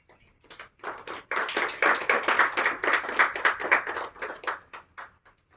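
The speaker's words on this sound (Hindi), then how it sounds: "इनके दम पर हम ये ताली बजा रहे हैं" An audience at an evening university campus event claps: a few scattered claps swell into a dense burst of hand-clapping, then taper off to isolated claps.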